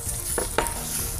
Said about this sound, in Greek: θα ρίξω τον κιμά μέσα σε αυτή την κατσαρόλα, την οποία την κατσαρόλα αυτή την έχω ζεστάνει πάρα πολύ καλά